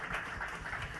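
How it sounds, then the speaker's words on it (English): Audience applause at a panel event on community building, a steady, even patter of many hands clapping for a brief moment, moderately quiet and heard alone. "Let's give another round of applause."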